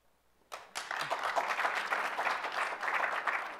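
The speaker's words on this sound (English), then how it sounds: "please applaud." Conference audience applauding at a business talk, sustained dense clapping that starts abruptly and carries on loud and steady throughout, with no talk over it.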